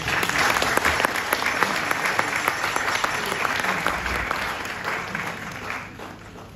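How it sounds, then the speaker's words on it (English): An audience at a parliamentary event applauds the Black Queens, a dense, sustained round of clapping that holds steady for several seconds before gradually thinning and fading. "Let's give the Black Queens a round of applause."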